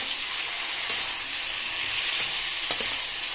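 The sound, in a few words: pork and potatoes frying in a pan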